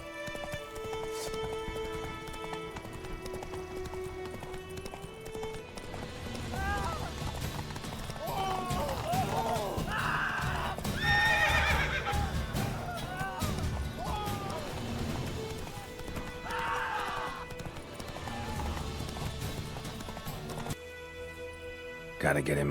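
Horse Roach gallops in The Witcher 3, steady clip-clop hoofbeats running under music, with a possible whinny and game dialogue voices over the top.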